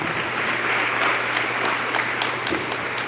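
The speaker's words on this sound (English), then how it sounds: "Let's clap it up for our honorees, everybody." Audience applause fills the room for honorees at an awards dinner, loud, dense clapping that continues evenly for a few seconds with scattered sharper claps on top.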